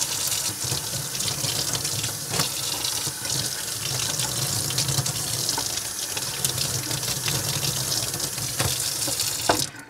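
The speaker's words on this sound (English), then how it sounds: "clean off the stencils in my sink just to be sure. Run some water over them." Tap water runs steadily into a sink as stencils are rinsed under the stream, a continuous splashing wash that stays loud and even for the whole stretch, with no talking.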